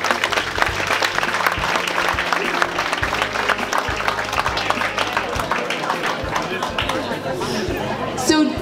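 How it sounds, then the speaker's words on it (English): A gala audience gives a quick round of applause, clapping blended with crowd chatter and a voice talking over it, steady and fairly loud throughout. "So if we could just give them a quick round of applause,"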